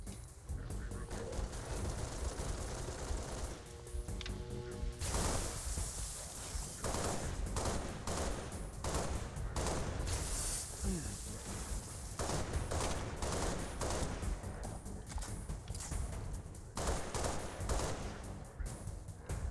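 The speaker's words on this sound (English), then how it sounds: "If he would stop shooting, throwing grenades." Rapid bursts of gunfire and explosive grenade blasts from the Halo Reach video game fill the scene, dense and continuous, with brief crackling gaps and loud repeated volleys throughout.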